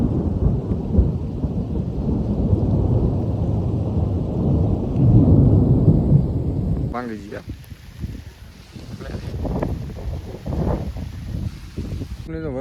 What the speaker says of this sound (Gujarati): વીજળીના કડાકા તો થાય જ છે